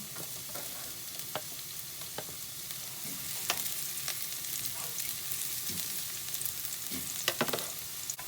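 Garlic sizzles in a pan with ginger and bird's eye chilies while a spicy tofu stir fry is cooked, a steady soft hiss of frying broken by scattered pops and crackles, close but quiet, with no talking.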